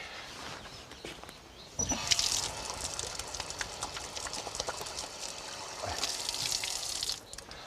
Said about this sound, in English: I'll tell you what I must do is wash my hands because I've been touching Lily of the Valley.